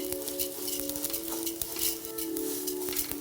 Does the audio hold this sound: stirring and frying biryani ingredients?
yes